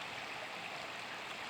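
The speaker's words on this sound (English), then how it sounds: "So the flow of the water is pretty high." A stream in a Missouri conservation area runs high after several days of heavy rain, a steady, even rushing of water with no voices, fairly faint and unbroken.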